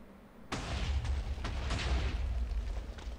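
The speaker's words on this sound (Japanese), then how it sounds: "何か後ろの方で爆発した音が聞こえたような" A Minecraft explosion goes off somewhere behind, a sudden deep boom that hits at once and then leaves a rumbling, crackling tail lasting several seconds, heard alone with no talk.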